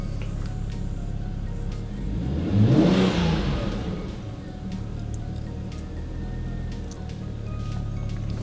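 A car engine revs up once past 2000 RPM after an ECU coding fix for a 2AAE fuel pump fault, rising to a peak and then settling back to idle, heard close up with no talk.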